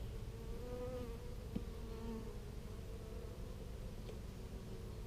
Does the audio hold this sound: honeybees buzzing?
yes